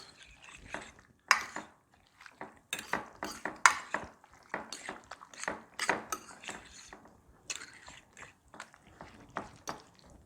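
A spoon scrapes and clinks against a bowl while hamburger, bacon, cheese and a wet mix are stirred together for a keto casserole, giving irregular close knocks and squelches with short pauses.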